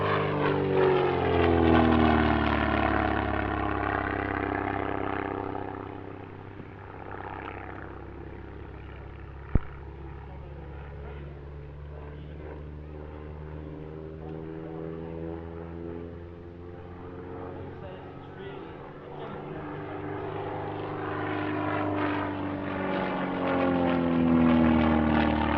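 An SF.260 propeller aircraft flies past at an airshow, its buzzing engine loud at first, fading as it pulls away, then swelling again with a clear Doppler sweep as it returns close overhead.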